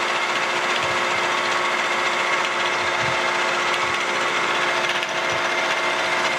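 A surface grinder works on a back rail fence clamped in a vise, giving a steady close grinding hiss with a few faint knocks underneath.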